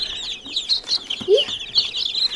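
Domestic chickens and chicks from a mixed flock, with soft high peeping chirps running throughout and one brief lower cluck near the middle, close and moderately loud.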